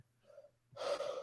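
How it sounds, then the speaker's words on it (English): A drawn-out yawn: a soft breathy inhale, then a louder, voiced open-mouthed exhale, close to the mic. "because you just yawned"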